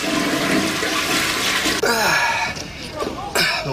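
A toilet flushes loudly and continuously with rushing water, while a voice speaks over it partway through.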